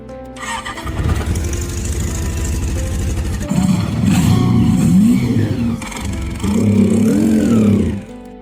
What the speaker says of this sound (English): we feed fuel directly into the carburetor and spray some starting fluid, which should help the engine start